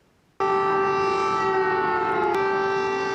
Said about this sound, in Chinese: 乌克兰首都基辅开始响空袭警报